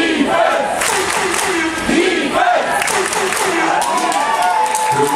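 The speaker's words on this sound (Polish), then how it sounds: "Krzyczymy defense i klaszczymy 3 razy" A loud stadium crowd at an American football game between Wolverines Opole and Panthers Wrocław B in Opole chants and shouts in unison with rhythmic clapping, a dense, steady roar close to the microphone.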